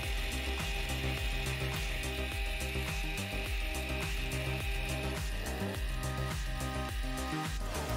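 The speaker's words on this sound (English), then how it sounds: "this is how everything looks like when it's standing up with the three gears and the motor on" A small DC motor turning three gears on a DIY 3D printer filament maker built from recycled plastic bottles, a steady loud mechanical whir with rapid rhythmic clicking and grinding throughout.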